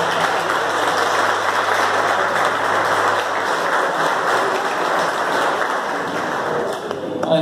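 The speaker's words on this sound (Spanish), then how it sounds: "Un fuerte aplauso a ver para ellos." A church congregation breaks into sustained applause, a dense even wash of clapping that holds steady for several seconds with faint voices mixed in.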